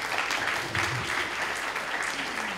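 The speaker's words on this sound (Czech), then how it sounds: "můžeme ho přivítat potleskem" A Czech audience claps to welcome a speaker at a talk, a short burst of steady, moderately loud applause with no voices over it.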